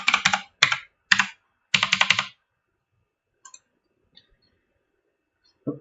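Password being typed on a computer keyboard while setting up an Ubuntu install, heard as four close bursts of rapid key clicks followed by a few sparse isolated taps after a pause.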